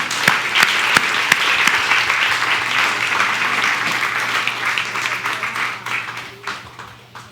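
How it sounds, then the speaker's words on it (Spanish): A church congregation applauds during a worship service, dense sustained clapping that fills the room for several seconds before thinning and tapering off near the end. "Den un aplauso al Señor"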